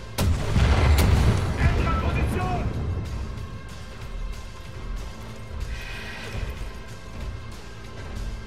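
Rocket explosions in the shooter game Wolfenstein: The New Order: a loud booming blast early on, then rumbling blasts and smaller crashes fading under ongoing game noise.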